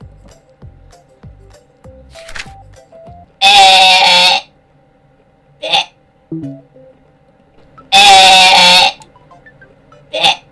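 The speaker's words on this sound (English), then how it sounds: "it's a goat" A goat bleat from the My Voice Zoo game, heard as two loud, separate bleating calls a few seconds apart, with soft taps and small clicks between them.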